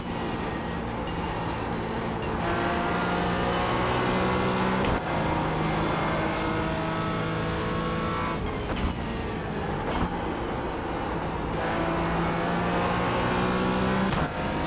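A Porsche GT4 race car in a racing video game drones steadily throughout, its engine note holding a continuous loud tone with shifting pitch as it runs laps, with no talking.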